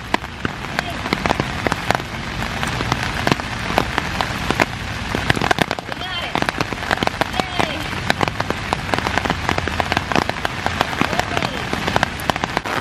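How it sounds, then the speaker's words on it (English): Steady rain patters across an outdoor sculpture park, a dense wash of drops falling continuously on surfaces and shelter overhead, close and even throughout with no talk. "The rain has really cleared the people out."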